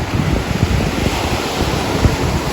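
Steady rush of surf washing on Las Ballenas Beach in Las Terrenas, Dominican Republic, with a gusting breeze buffeting the microphone, loud and continuous, no voices.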